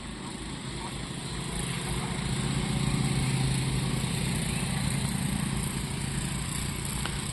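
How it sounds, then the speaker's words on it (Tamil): A motorbike engine drones steadily on a tar road in the countryside, rising gradually as it approaches and staying loud and close, with no talk over it. "அந்த பைக் வந்துட்டுருக்கு பாருங்க"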